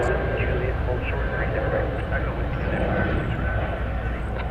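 An Atlas Air Boeing 747 jet taxis at DFW airport, a loud steady engine roar and rumble heard from a distance under continuous talk.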